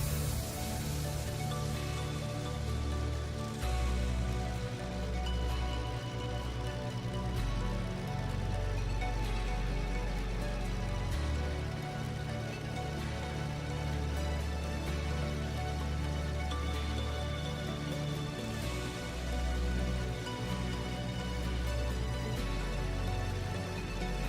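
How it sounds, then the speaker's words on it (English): Steady rain patters on a Beech Duke aircraft in the FSX flight simulator, a continuous broadband hiss lasting the whole span at an even, fairly loud level with no talking. "It feels like the rain just got heavier."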